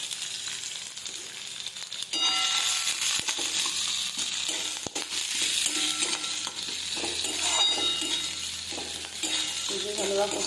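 Sliced green chilli and chopped onion sizzling in a hot pan, with steady frying hiss, occasional stirring scrapes and light clinks of a utensil against the pan, all close and continuous.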